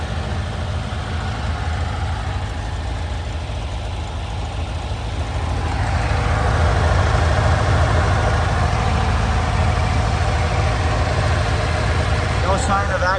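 A 1967 Porsche 912 Targa engine with Weber carburetors idles in a steady low rumble that grows louder and rougher about halfway through, with faint talk underneath.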